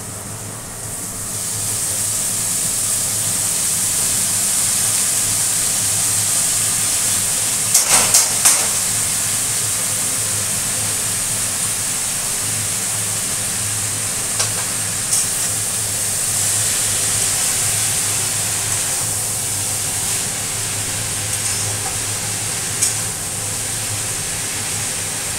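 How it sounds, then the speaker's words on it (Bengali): Water pouring from a tap over freshly cut and washed pumpkin leaves in a home kitchen, a steady broadband hiss running throughout with a few brief clatters. "জল পড়ছে।"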